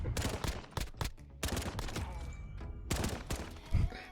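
Call of Duty gunfire in a 2v2 match, with bursts of automatic fire and repeated shots in several clusters, loud and close, separated by short quieter gaps.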